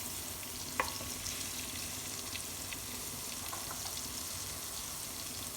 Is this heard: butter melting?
yes